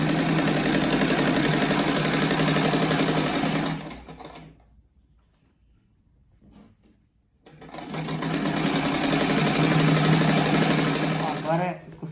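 A sewing machine stitches strips of fabric for a pineapple-design rug, running loud and steady for several seconds, pausing in near silence, then starting up again in a second long run.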